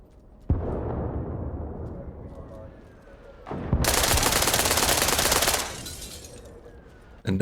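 Gunfire in a military simulation video game: a loud, dense burst of automatic fire in its middle stretch, with a single sharp shot before it, over continuous rumbling background ambience.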